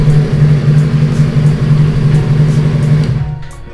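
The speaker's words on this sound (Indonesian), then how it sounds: "Nah, ini motornya gue matiin dulu." A Yamaha MT25 motorcycle engine idles loudly and close up with a steady low throb, then cuts out near the end as it is switched off, leaving quiet clicks.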